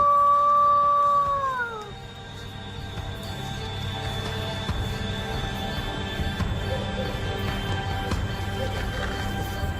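A long, loud howl of a wolf-like beast rises and then falls away as a sound effect, followed by a low, dark ambient drone.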